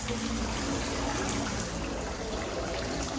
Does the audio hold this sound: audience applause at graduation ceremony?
no